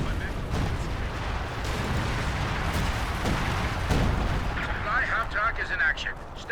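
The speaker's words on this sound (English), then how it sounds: "Assault artillery raining on down" An artillery barrage rumbles in a Company of Heroes 2 match, with dense, continuous booming and crackling blasts. Faint talk sits under the barrage, and chirpy unit effects come in near the end.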